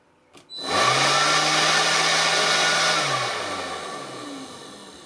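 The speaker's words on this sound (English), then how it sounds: "This is the DCV 100 blower and this is what it does." DeWalt DCV100 cordless blower with a fault, on a workbench, spins up with a click into a loud steady whooshing whir, then its motor pitch sags and winds down after a few seconds.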